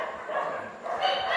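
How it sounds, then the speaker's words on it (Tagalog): Several dogs bark and yip noisily at close range, a steady clamour lasting throughout with a brief dip midway, mixed with faint voice-like sound. "maingay yung mga aso"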